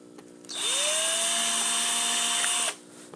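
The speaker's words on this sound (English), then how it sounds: "So let's drill a third hole." A power drill whirs steadily at high speed for about two seconds, drilling a ventilation hole, close up, starting and stopping abruptly, with no talking.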